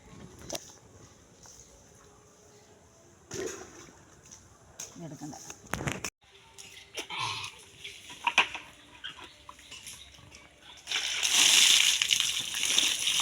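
Water splashing and sloshing in bursts, growing louder and more vigorous toward the end, with voices talking in between and faint animal sounds around.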